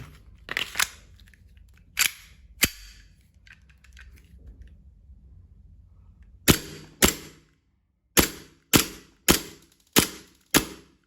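Sharp shots from M1911 and Glock 19 airsoft BB pistols fired near and loud: a few scattered reports, a pause, then a steady string of about seven evenly spaced cracks emptying a magazine.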